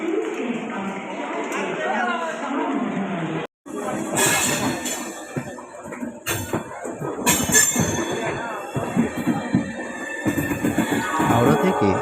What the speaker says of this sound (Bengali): হাওড়া থেকে আমাদের ট্রেন ছাড়লো সন্ধ্যা 6:30 নাগাদ।